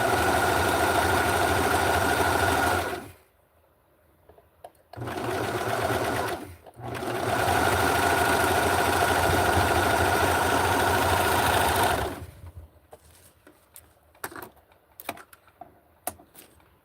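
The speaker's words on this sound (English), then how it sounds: "I just did the serger in the back" A serger sewing machine stitches vintage 1960s barkcloth in long, steady whirring runs, with a short pause, then stops and leaves quiet clicks and handling noises.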